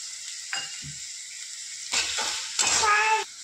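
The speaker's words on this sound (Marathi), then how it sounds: "आता सर्व हे मिक्स करून घेऊया" A spoon stirring soybean pulao with peas in a hot pan, soft sizzling under a few scraping strokes that grow louder and denser toward the end.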